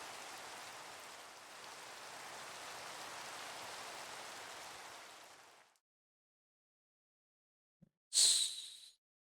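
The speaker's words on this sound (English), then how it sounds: "so we are not bothered by the rain." Rain in the Minecraft video game hisses as a steady, soft wash of falling drops, then cuts off abruptly into silence, followed by a brief bright chime-like game sound near the end.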